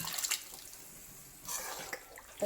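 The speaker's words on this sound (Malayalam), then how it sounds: "നമ്മൾ എടുത്തു വെച്ച ചൂടുവെള്ളം അതിൻ്റെ അകത്ത് ഒഴിച്ചു കൊടുക്കാം" Hot water splashes and trickles into a pot of bone and tapioca curry. The pouring comes in two short, faint bursts that sit close by and carry no talk over them.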